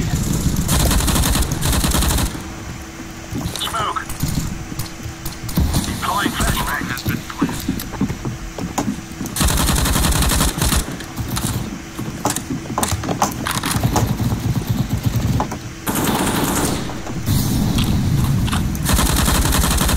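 Rapid bursts of automatic gunfire from CS:GO crackle loudly in clustered volleys with brief lulls between them, close and dense, under a constant low hum.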